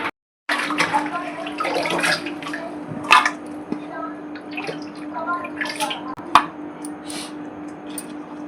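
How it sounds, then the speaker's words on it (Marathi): Cucumbers and coriander being washed by hand in water, with splashing, sloshing and dripping close by, and someone talking over it throughout. "सांबारला पण धुवून घेऊया."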